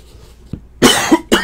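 Two or three harsh, loud coughs close by, one long burst followed by a short final cough, after a near-silent start with a faint click.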